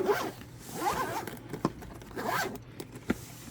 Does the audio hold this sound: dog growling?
no